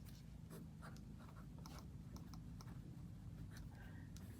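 Pen writing days of the week into a paper planner, quiet scratchy strokes and taps in irregular bursts, close and soft with no talking.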